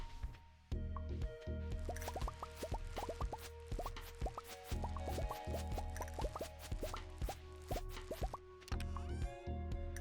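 A watering can waters crops in Stardew Valley. Bright watery plops and drips repeat in quick rhythmic bursts, close and clear, with short gaps between the runs.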